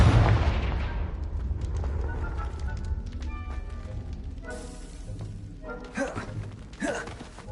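A Confringo fire spell blast in Hogwarts Legacy gives a heavy opening boom that decays into crackling, rumbling game noise, with later smaller bursts and some voice underneath.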